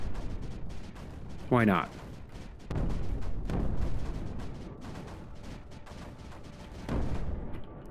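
Deep booming explosions as a mortar is blown up in a video game, one sharp descending whoosh into a heavy blast followed by further rumbling bursts, with a voice talking briefly in between.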